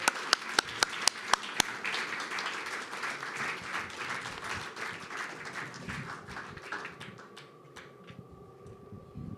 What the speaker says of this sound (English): Another big round of applause for Fred Liang.